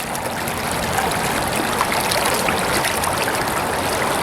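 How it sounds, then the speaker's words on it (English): Water trickling and washing gravel through a self-feeding gold mining sluice box, a steady close rushing hiss with no pauses. "A nice slow trickle of material starting to feed into our sluice box here"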